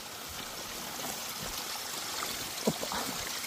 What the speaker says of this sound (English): Fresh spring water.